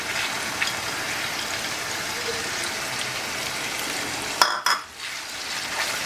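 Tomato puree sizzles in a hot pan while Schezwan sauce cooks, a steady bright frying hiss that breaks into a brief clatter and stirring near the end.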